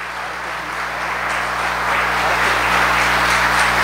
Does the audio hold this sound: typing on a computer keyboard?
no